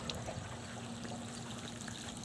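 Pool water flushes out through the open valve of a D.E. filter as a steady rushing, trickling wash with a faint hum, continuous and moderately quiet with no talking.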